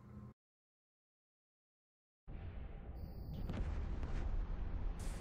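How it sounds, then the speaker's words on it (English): Ship explosions in the EVE Online space game, a burst of rumbling, crackling blasts that starts abruptly after a short silence and builds into a sustained loud roar with layered booms and a high tonal whine. "I can't even keep up with all the explosions"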